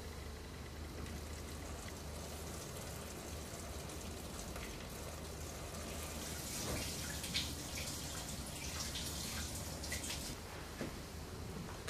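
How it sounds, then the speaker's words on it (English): Water is poured slowly through a colander into a Fluval Edge aquarium, a soft, continuous patter and trickle like light rain, steady and fairly quiet, swelling slightly in the middle. "I'll be pouring the water in really slowly, which will help disperse the water"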